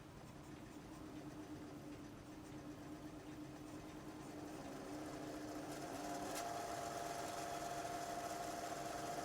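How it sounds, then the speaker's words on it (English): A wood lathe spins a yo-yo during wax buffing, a low steady motor hum and whir that rises slightly in pitch and loudness partway through as the speed increases, faint and continuous. "sped the lathe up, do that final buffing"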